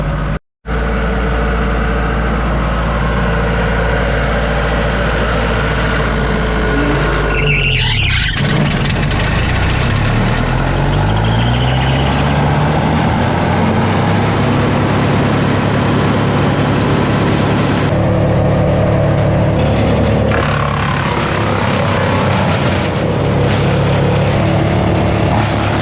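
A Vermeer BC1000XL wood chipper's engine idles loudly and steadily while warming up on a sub-zero morning, a constant rumble with a faint squeal and shifting tone partway through.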